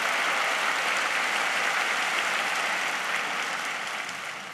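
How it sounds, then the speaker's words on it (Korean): Applause from a church congregation at a Pentecost prayer gathering as a testimony speaker is welcomed: dense, steady clapping from a large indoor crowd, holding level for several seconds and easing slightly at the end. "박수로 앞에 모시겠습니다"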